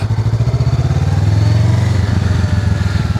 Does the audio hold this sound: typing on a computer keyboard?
no